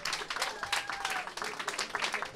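Audience applause at a live rock concert, a dense wash of clapping sustained loud and steady throughout, with a brief tonal whistle or ring and a voice faintly mixed in.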